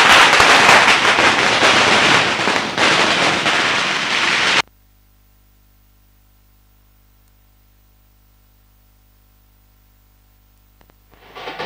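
Fireworks crackle at an opening ceremony with drums, a dense, loud wash of bursts and sizzling for several seconds, then cutting abruptly to near silence before faint noise returns.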